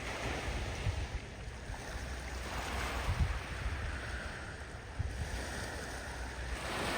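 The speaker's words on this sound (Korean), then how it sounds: "파도가 밀려올 때마다 몽돌이 서로 부딪히며 독특한 소리를 냅니다." Gentle waves wash over a pebble beach on Muuido, Incheon, a soft continuous surf hiss with faint rattling of stones as the water rolls in and out, no voices.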